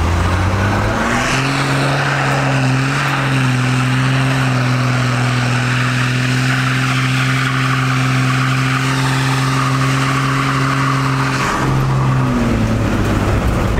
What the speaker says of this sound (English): it smokes tires better, it does roast tires really cool